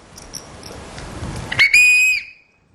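A single short, shrill whistle blast sounds after a moment of quiet background murmur, held for about half a second before it cuts off.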